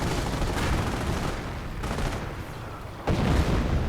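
Rolling bursts of artillery and gunfire from a World War II strategy game crackle and thud in dense succession, with a heavier blast near the end.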